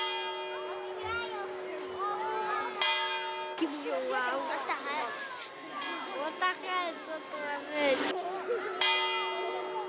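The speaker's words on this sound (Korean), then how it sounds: "자세히 보니 종소리와 함께 시계탑 위 문이 열리기 시작한다." The town hall clock tower bell in Poznań, Poland rings out in repeated bright, sustained tolls over a lively outdoor crowd, with children's voices and chatter mixing beneath the ringing.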